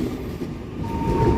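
A Chinese-built CRRC KRL electric commuter train rolls along in a parade, giving a low, steady rumble close by with a faint thin tone above it and no voices.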